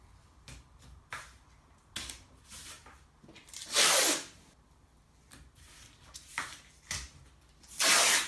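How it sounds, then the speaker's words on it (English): Masking tape is pulled off the roll and pressed along the edges of an IKEA table top, giving quiet ripping strips and soft handling taps, with two louder, longer tearing pulls. "So using some masking tape, just going to mark round the edges."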